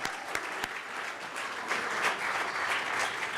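A room of guests at an autumn charity benefit dinner bursts into steady, full applause, dense clapping sustained throughout with a few sharper claps near the start.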